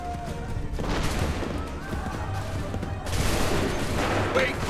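Musket volley fire in the Assassin's Creed III video game, a dense, sustained burst of overlapping shots that fills the scene at steady loudness, with voices shouting orders in the background.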